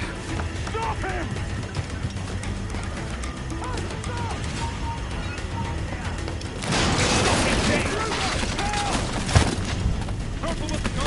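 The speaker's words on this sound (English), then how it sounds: "Careful with the gunfire barrage!" Gunfire barrage in the naval video game Assassin's Creed IV: Black Flag, with a dense, continuous roar of shots and clatter that thickens midway and carries a few sharper cracks. Voices shout faintly underneath.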